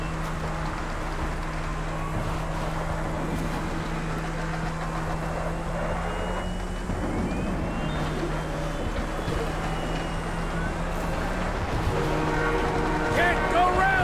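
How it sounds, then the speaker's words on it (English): Train in GTA V rumbling along at moderate volume with a steady low engine drone and a sustained horn-like tone, while a plane's engine hums and a voice talks intermittently over it. "Can't go round the train!"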